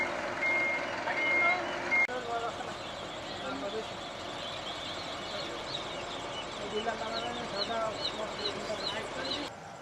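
A lorry from Salak Tinggi, Sepang, carrying nearly 40,000 day-old chicks backs up at a poultry farm, its reversing alarm beeping repeatedly over a low engine rumble, with birds chirping in the background.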